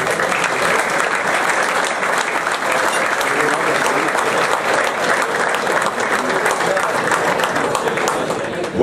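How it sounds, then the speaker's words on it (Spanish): An audience applauds steadily throughout at a youth football award ceremony for standout players, dense and even clapping from a crowd in a hall, fairly close and loud. "Fuerte el aplauso para Matías, que se acerca al escenario."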